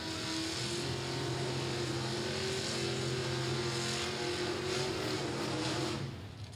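Loud drag racing engines from a 1957 and a 1951 Chevrolet, a steady sustained roar with strong low engine tones at full throttle, holding for several seconds before fading at the end.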